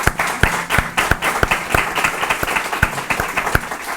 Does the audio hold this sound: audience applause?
yes